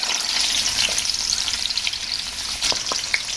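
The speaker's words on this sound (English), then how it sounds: "So next I'm going to be adding this chopped onion." Chopped onion frying in oil in a pot, a dense, loud crackling sizzle with a few sharper spits and stirring sounds.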